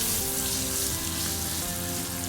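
Thinly sliced onion sizzles steadily in hot oil in a pan while cooking a potato and green pepper curry, a dense, even hiss with no talk over it.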